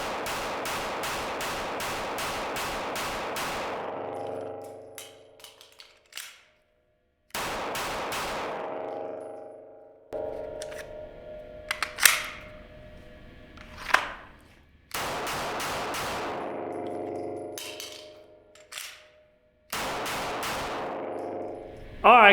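An H&K USP Compact pistol fitted with a flat trigger fires in several separate strings of quick shots, each burst loud and ringing with an echoing tail, with pauses between them.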